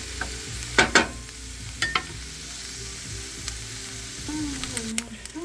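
Onions sizzle and fry in a pan for goulash, with a steady crackle underneath and a few louder clatters and stirring knocks near the start.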